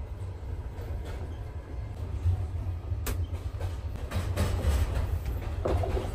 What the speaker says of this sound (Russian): Поезд, честно говоря, старый. Он идет с Калининграда до Адлера.